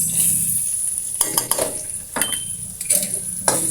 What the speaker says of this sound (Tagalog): Gisa natin yung ating sibuyas.